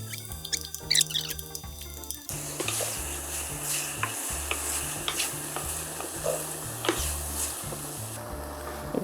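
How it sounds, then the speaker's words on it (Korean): Oyster mushrooms stir-frying in a little cooking oil with a pinch of salt, a steady close sizzle broken by repeated scraping stirs, with music playing underneath throughout. "버섯을 볶겠습니다."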